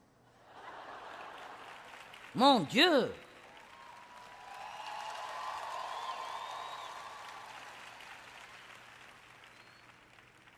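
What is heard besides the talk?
faint audience applause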